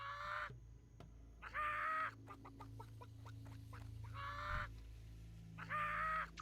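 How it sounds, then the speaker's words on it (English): A chicken in World of Warcraft Classic gives several loud, squawky clucks at intervals, with quick clicking game sounds between the calls and no talking. "And then I killed the chicken."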